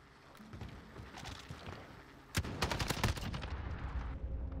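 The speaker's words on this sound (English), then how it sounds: "Heard a gunshot." Gunfire in the video game Call of Duty: Modern Warfare, scattered distant shots giving way to a loud close burst of rapid automatic fire that keeps rattling on.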